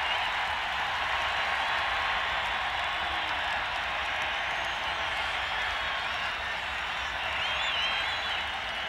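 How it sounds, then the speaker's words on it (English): Baseball stadium crowd at 1987 World Series Game 4 in St. Louis, a dense steady roar of cheering and clapping with two outs and a full count, continuous and far-off in a broad wash. "Crowd hopeful of a strikeout"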